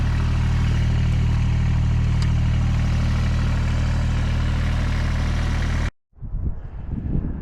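Kubota BX compact tractor engine running steadily, a loud close drone with a low hum for about six seconds before cutting off, followed by quieter rustling outdoor noise.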